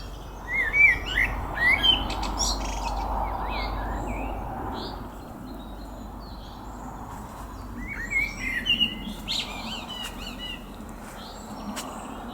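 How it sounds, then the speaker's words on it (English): A blackbird singing in a garden, with several bright, fluty phrases separated by pauses, moderately near over a soft outdoor background hum. "No, I think that's the blackbird."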